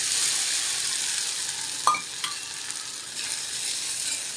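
A sabudana (sago) mix with hing, cumin seeds and curry leaves sizzles steadily in a pan, with a couple of faint scrape-and-stir clicks over the constant hiss.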